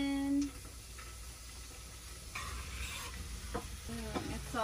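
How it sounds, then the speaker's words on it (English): Onion and garlic fry in a pan at a campsite, giving a quiet, steady sizzle with occasional stirring scrapes and a few faint voices nearby. "It's literally just onion and garlic right now, but it smells amazing."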